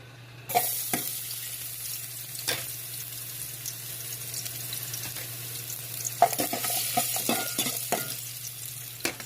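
Onion and garlic sizzle steadily in a hot pan for chicken liver adobo, a continuous frying hiss with a low hum beneath and occasional scraping stir clicks, close and alone with no talk.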